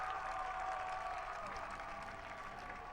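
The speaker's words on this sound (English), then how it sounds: "You can hear these crowds, barely hear myself think." A crowd at a 2011 high school football game between Castle and Evansville Mater Dei cheers and applauds continuously, a dense steady roar of clapping and voices heard from within the stands.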